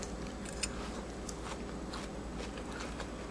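Cooked spaghetti squash chewed close up gives a series of soft, crisp crunches in an irregular rhythm, quiet but distinct, with no talk over them.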